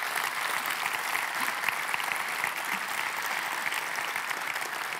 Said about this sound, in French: Allez, on les applaudit s'il vous plaît.